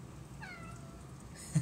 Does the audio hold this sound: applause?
no